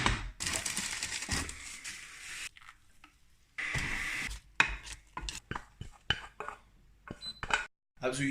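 A spoon scrapes and stirs through thick jam in a jar to break up lumps, giving bursts of wet clicking and scraping with short pauses between strokes, close and fairly loud.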